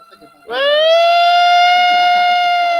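A siren sweeps up and holds a steady wailing tone outside, loud and sustained, with faint murmuring voices underneath at the start.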